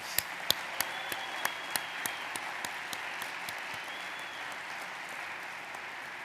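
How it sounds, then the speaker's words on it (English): Audience applause at a commencement ceremony for the platform party, a dense steady clapping from a large crowd with a few sharp, loud individual claps standing out near the start and gradually thinning. "Let's give our platform party a big round of applause."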